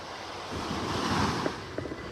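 Ocean waves wash onto a beach in North Naples, Florida, a close rushing surf with gusty wind buffeting the microphone and a couple of brief splashes near the end.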